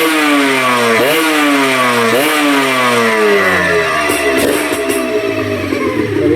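A Honda NSR150 RR two-stroke motorcycle engine revs repeatedly during a test, pitch climbing and dropping in loud close bursts, then settling into a steadier rough drone.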